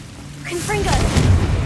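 A Confringo blasting spell goes off in Hogwarts Legacy: a voice calls out briefly, then a loud, rumbling explosion swells and holds for about a second.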